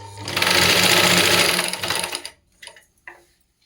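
A sewing machine hems the border of a saree, running loud and steady for about two seconds before stopping, followed by a couple of short faint knocks.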